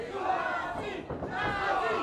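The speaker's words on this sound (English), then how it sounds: "And the fans are starting to chant for Jesus," Wrestling crowd at an independent brawl event chanting in unison for the wrestler Jesus Desafio, a loud, dense mass of voices rising and falling in rhythmic waves with a brief dip midway.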